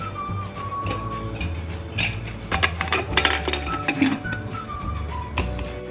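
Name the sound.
placing a lid and two heavy stones on a tiffin box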